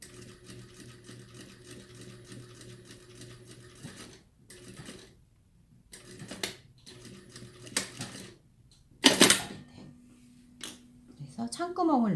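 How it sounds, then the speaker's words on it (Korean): A sewing machine stitches a zipper pocket in steady mechanical bursts, its rapid needle rattle stopping and restarting several times, with a sharp clatter partway through and a voice talking between the runs. "그리고 봉제를 마저 해주시면 되겠죠"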